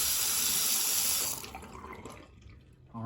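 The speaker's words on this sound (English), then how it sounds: "whenever that's all through, you're gonna see a steady stream" Water streams steadily from the drain of a hot water heater being flushed, a close, continuous rushing flow that thins out and quiets after about halfway.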